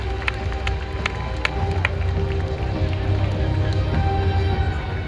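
A large convention hall crowd at a San Diego Comic-Con panel cheers and claps for the cast of Silo, a dense, continuous roar of applause with scattered sharp claps and whoops throughout.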